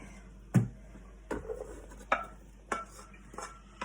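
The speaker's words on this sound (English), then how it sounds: "I'm just transfer that into the pan" Turnip cake mixture moving from a bowl into a big pan, heard as a few sharp clinks and scrapes of a utensil on cookware, spaced about a second apart in a quiet kitchen.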